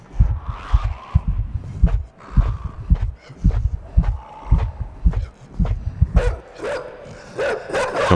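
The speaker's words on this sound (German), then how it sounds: "Das ist ein Hund." A dog barks repeatedly in the dark puzzle-platformer Inside, a string of deep, punchy barks in uneven bursts over low rumbling thuds, growing harsher and more agitated toward the end.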